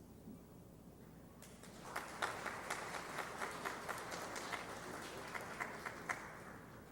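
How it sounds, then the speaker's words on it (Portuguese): A church congregation at a Methodist ceremony claps together in warm, sustained applause, many hands at a middle distance, starting softly and swelling to a steady patter. "recebêssemos com uma salva de palmas também o irmão Fernando da Igreja Metodista do Sudoeste"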